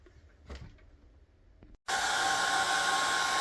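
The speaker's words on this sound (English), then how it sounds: "So I just used a hair dryer to dry this off" Some faint handling noises, then a hair dryer switches on and blows with a loud, steady rushing whir, drying a pen and ink watercolor painting.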